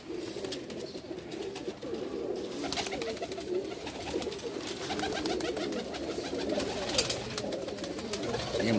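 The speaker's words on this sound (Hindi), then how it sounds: "ये उड़े हुए कबूतर हैं" Pigeons at a Bhopal sale coo continuously in a noisy, crowded setting, low burbling calls layered over a constant background din.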